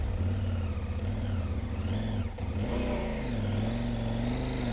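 A CFMOTO Ibex 800T motorcycle engine revs up and down in smooth, rising and falling waves, loud and close, briefly dipping before climbing again on a Smoky Mountains trail ride in North Carolina.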